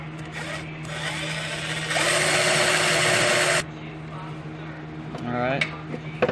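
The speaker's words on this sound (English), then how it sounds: "Now I'm about to drill this hole." A power drill whirs steadily at close range for a couple of seconds, drilling a punched hole in a metal bracket for an AE86 exhaust manifold, surrounded by low motor hum and small clinks.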